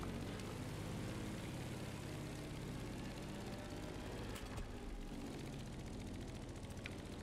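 An aeroplane engine in The Crew Motorfest racing game hums as a steady, faint, low drone from start to finish, with no other clear events.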